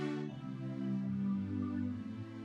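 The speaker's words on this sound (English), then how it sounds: "this same keyboard has a much better sound that" A digital keyboard's string section patch plays a sustained, lush chord with rich layered harmonics that swells gently and holds steady, heard alone without any talking.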